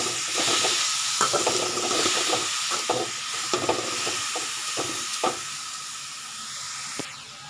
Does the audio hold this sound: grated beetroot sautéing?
yes